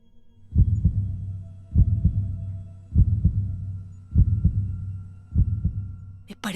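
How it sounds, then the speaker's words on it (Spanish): A double-thumped heartbeat pounds steadily, low and resonant, about one beat per second, swelling stronger toward the end. "Pero el latido crecía cada vez más fuerte"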